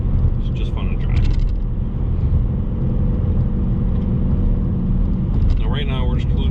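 A 2020 Ford Mustang Bullitt cruising at 60 mph, its engine a low, steady rumble with road noise heard from inside the cabin, while a person talks over it at the start and again near the end.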